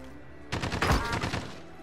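Gunfire during a video game match: a short, moderately loud burst of rapid shots starting suddenly and ringing on for about a second over quiet background noise.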